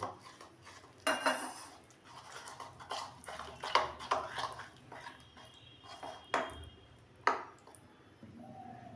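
A spoon clinks and scrapes inside a bowl as cornflour batter with salt and pepper is mixed with a little water, giving irregular metallic taps with quiet gaps.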